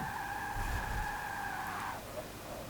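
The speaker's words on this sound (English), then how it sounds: "It's really, really weird going in a car that's so quick with no noise but the tyres." Tyre squeal from a Tesla Model S P85D in Forza 6, a sustained high screech lasting about two seconds over a low rumble before it fades, with no engine noise heard.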